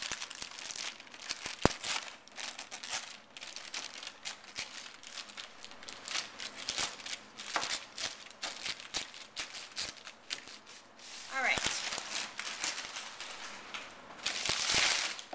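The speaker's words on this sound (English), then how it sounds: "So now I have my piece of wrapping paper. You'll notice it's very crinkly." A sheet of crinkly wrapping paper is handled close up, giving continuous crackling and crumpling with sharp pops and rustles throughout and no talking.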